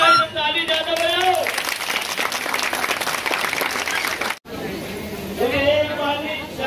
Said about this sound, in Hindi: तो ताली ज्यादा बजाओ।